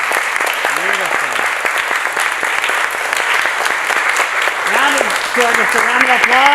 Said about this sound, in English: Just a round of applause for the music.